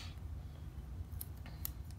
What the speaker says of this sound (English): So I'm going to take my scissors